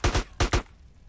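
Gunfire in GTA San Andreas Definitive Edition, heard as four sharp, loud shots in two quick pairs, followed by a short fading tail of quieter noise.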